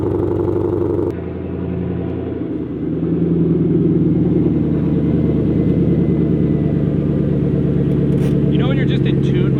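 A 2005 Ford GT engine starts and settles into a deep, steady idle as the car pulls out, loud and close throughout.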